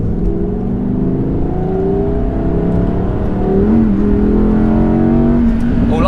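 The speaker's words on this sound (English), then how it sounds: "the naturally aspirated V10, you find in an R8 like this, is the best sounding out of the box engine" A loud, high-pitched naturally aspirated V10 in an Audi R8 RWD Performance Edition hums and revs steadily, heard from inside the car, the pitch rising and falling as the throttle changes.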